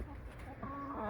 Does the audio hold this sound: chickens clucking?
yes